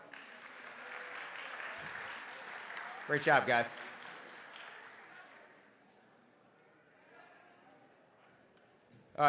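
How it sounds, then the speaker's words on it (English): Audience clapping for a 7th and 8th grade baseball team at a school sports awards night, a moderate patter that tapers off after a few seconds, with a voice speaking over it. "Give them a round of applause."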